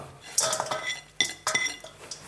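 Chunks of boneless chicken feet tossed with ginger slices, garlic slices and red and green chili, with clinks and scrapes of utensils against a bowl coming in irregular, fairly close bursts.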